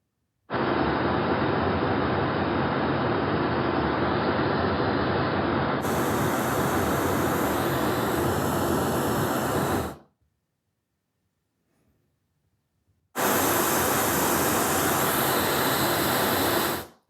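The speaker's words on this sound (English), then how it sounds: "So let's try the brown noise." Steady brown noise from a noise generator app, played as a dense, unbroken hiss that shifts in tone partway through, then cuts out for about three seconds before resuming at the same loudness.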